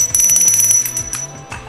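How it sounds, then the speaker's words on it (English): A small feather bell jingles close and bright in a storage unit, a quick run of light tinkling rings that fades toward the end. "There's a little feather bell."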